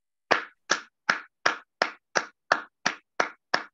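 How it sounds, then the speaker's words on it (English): A warm round of applause for speakers and panelists at a conference on the African diaspora, heard as ten sharp, evenly spaced claps close by, with no talk. "kindly give each of our speakers and panelists a warm round of applause"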